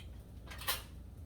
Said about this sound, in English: I think we can start turning around our arepa.